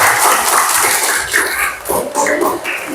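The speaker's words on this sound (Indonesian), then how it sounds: "oke, tepuk tangan buat kita semua" A classroom group claps hands together, loud and somewhat uneven with scattered sharp claps and a few background voices over three seconds.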